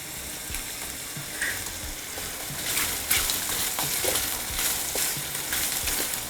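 Curry leaves sizzling and crackling in hot oil as upma is tempered, a dense, steady frying hiss with scattered pops and stirring, close and loud throughout.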